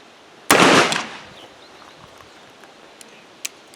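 A single loud, close shot from a Pietta Colt .44 Navy black powder revolver, a sharp crack that fades quickly, followed by faint ticks and pops outdoors.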